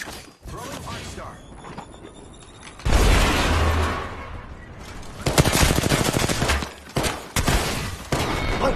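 Gunfire in the battle royale game Apex Legends, a near burst of rapid automatic shots and impacts mixed with mechanical clatter, moderately loud, with speech over the action.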